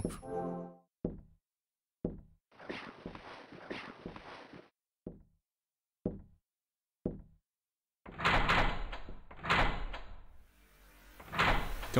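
Door sounds from an RPG Maker horror video game: a series of short, sharp knocks or thuds spaced about a second apart, a longer rattling sliding noise, then louder heavy door movement with a crash near the end, no speech.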